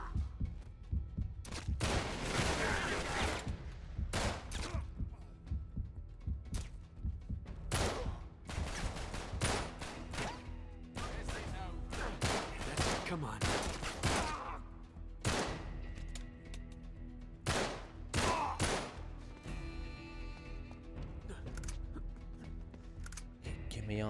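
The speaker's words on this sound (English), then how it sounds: "I love rapid fire weapons, are the best." Rapid-fire weapon gunfire in the action game Uncharted 3 cracks out as loud, sharp bursts and clusters of shots, irregularly spaced and repeated over a long stretch of combat with no talking.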